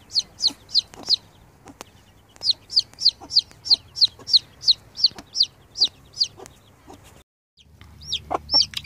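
A hen and her chicks cluck in a quick, regular run of short, sharp calls, close and clear, with a brief pause before the clucking resumes.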